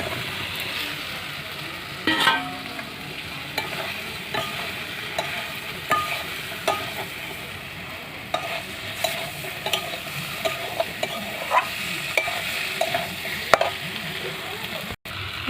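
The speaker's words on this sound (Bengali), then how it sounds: "এবার এঁচোড়টা আর আলুটা দিয়ে একটু কষিয়ে নেব" Jackfruit and potatoes are stirred and sautéed in hot spiced oil, a steady sizzle with repeated scraping stirs of a spoon in the pan, close and continuous without speech.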